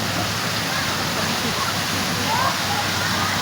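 A mountain river stream flowing: a steady, loud rush of water that fills the whole moment without pause, with no clear voices over it.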